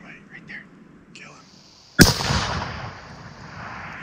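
A rifle shot fired at an elk during a post-rut hunt cracks once, sharp and loud, then rolls away in a long echoing tail; quiet voices murmur before it.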